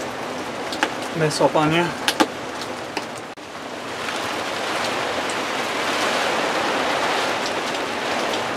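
Steady rain falls by a back step, a broad hiss building after a brief stretch of speech and thumps at the start, then continuing evenly and fairly close.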